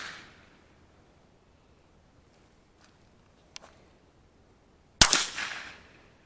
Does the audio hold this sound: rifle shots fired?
yes